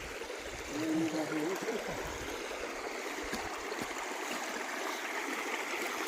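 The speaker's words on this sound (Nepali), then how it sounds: "अब फाइनली हामी नदी पुग्दैछौँ" A river flows steadily and evenly throughout, a constant broadband rush at moderate distance with no talk over it.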